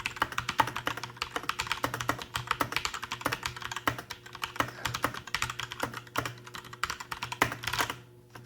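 Hard, fast typing on a linear-switch mechanical keyboard, with dense loud clacks hammering in a quick continuous rhythm up close before stopping abruptly near the end.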